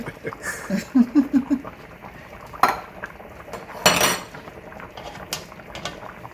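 A metal spoon pushes chicken dumplings around a pot and scrapes down at the bottom, making a quick run of soft clinks followed by a few louder isolated knocks against the pot.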